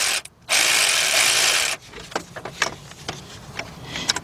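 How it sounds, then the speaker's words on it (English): Ratchet wrench working on the oil cooler bolts of a BMW engine: a burst of dense rapid clicking, then a quieter run of scattered metallic clicks and knocks, close by with no talking. "let's get our big bill ratchet in there, 16 millimeter or 5/8."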